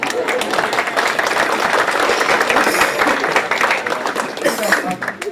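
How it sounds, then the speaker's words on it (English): An audience at a middle school banquet claps together, a loud, dense patter that holds steady for about five seconds before thinning toward the end, with some voices mixed in. "let's clap"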